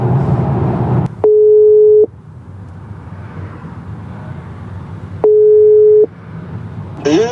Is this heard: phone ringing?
yes